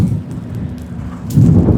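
Loud, steady roaring wind of a blizzard in New York City, a dense low rumble with gusts swelling near the end, heard close with no voices.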